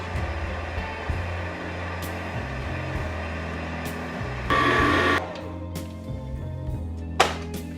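Electric mixer whipping cream toward stiff peaks, a steady low motor drone with shifting pitch steps and a brief louder burst as the speed rises, running alone without talk.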